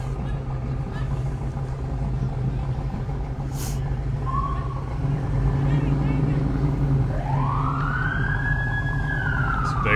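An Ohio State Highway Patrol car moves through a Christmas parade, its siren sweeping up in a loud rising wail near the end over a constant engine and crowd rumble.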